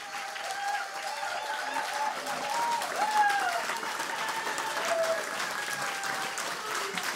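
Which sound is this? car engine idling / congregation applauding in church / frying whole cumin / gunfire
congregation applauding in church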